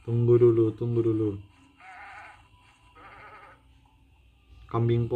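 Tree goats in the video game Ghost in the Mirror bleat loudly and close by in three long, wavering calls, with softer rustling game sounds between them and no speech.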